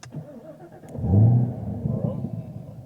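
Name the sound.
sports car engine starting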